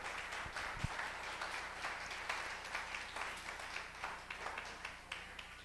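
A church congregation applauding at a worship service, a dense, steady patter of many hands clapping that carries on evenly throughout, heard from a moderate distance.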